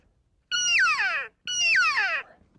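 Two drawn-out, descending mewing elk cow calls from a reed call, each about a second long, separated by a short pause and sounding close and clear.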